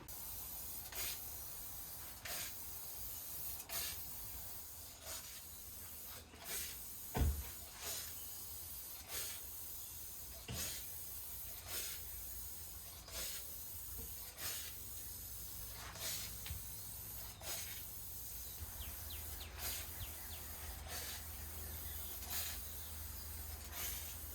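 Spray gun laying clear coat on a Suburban roll pan, a continuous airy hiss broken by regular short bursts as passes repeat, with one sharp thump partway through.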